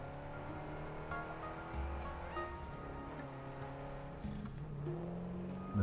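Truck driving along a bumpy route in the Satisfactory factory-building video game, a steady engine drone with shifting pitch and a few bumps and rev changes throughout, no talking.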